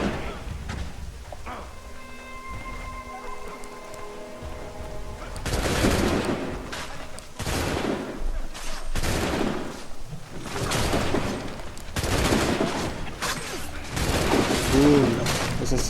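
Gunfire in the Assassin's Creed III video game: a quiet stretch with a tonal game sound, then several loud sharp shot bursts and volleys spread across the clip with ambient noise between them.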